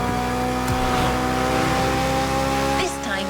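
A BMW Z sports car engine in the racing game The Crew Motorfest hums and revs steadily at close range, with a brief tire-squeal-like chirp near the end and faint talk underneath.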